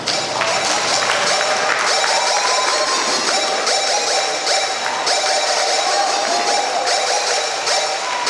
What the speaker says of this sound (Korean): 신랑의 발걸음 한 걸음 한 걸음마다 여러분 뜨거운 축하의 박수를 부탁드립니다